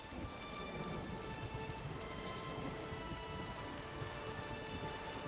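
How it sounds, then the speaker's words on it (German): Storm in The Witcher 3 with heavy rain pouring steadily and thunder rumbling underneath, a dense continuous wash of rainfall with no voices. "Der Sturm tobt, die Wellen sind so hoch wie Hütten und obendrein schlagen ständig Blitze ein."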